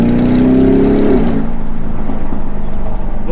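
A Lamborghini Urus SUV engine pulls hard with a rising, droning tone that holds for about a second, then settles into a lower, rougher rumble, loud and close throughout.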